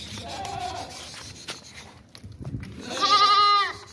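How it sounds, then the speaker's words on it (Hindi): A Makhi Cheeni goat bleats twice: a short call first, then a longer, louder bleat near the end, with faint rustling and handling noise between. "वो भी ये वाला बकरा है"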